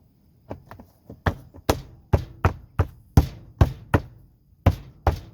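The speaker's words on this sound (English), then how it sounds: "Taps in place, just like that." A plastic interlocking deck tile is tapped and snapped into place by hand with no hammer, giving a series of about a dozen sharp, close hollow knocks in an irregular rhythm with short gaps.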